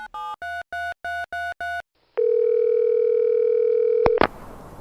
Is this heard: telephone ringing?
yes